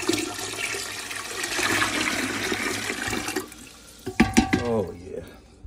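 Water from a pitcher is dumped in a steady, broad gush for about three seconds, a mix for removing paint with baking soda, then it tapers off as a person starts talking nearby.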